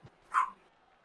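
A dog gives a single short bark inside a small apartment, brief and moderately close, after a faint thump, with no talking.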